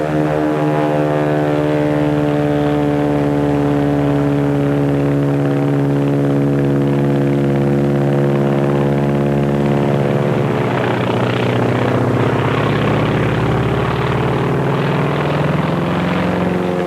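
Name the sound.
Japanese Zero fighter plane propeller engine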